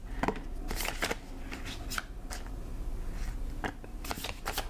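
Tarot cards are shuffled close by in quick flurries of crisp riffling and slapping, broken by short pauses as cards are pulled, with no talking.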